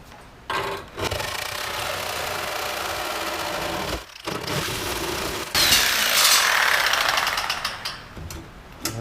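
A worn, dull blade cuts through a part for a Subaru-powered go-kart in loud, rough bursts with short pauses between passes, ending in a brighter, harsher stretch of cutting.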